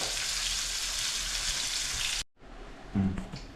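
Dried fish fries in oil in a pan for a curry, giving a steady close sizzle for about two seconds before an abrupt cut to quieter sizzling and a brief clatter.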